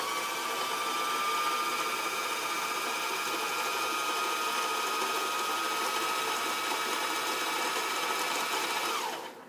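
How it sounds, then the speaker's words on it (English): A Euro Pro 7535SA front-loading sewing machine winds a bobbin with a steady, close whirring hum that runs evenly for about nine seconds before cutting off at the end. "you turn your machine on, you match your foot pedal, and your bobbin just loads"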